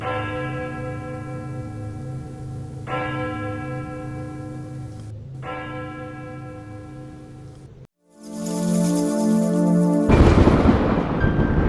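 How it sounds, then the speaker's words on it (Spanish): Church bells toll in long, resonant strikes, each ringing out and overlapping, followed by a rumbling burst of loud noise toward the end. "Las campanas no las puedo olvidar."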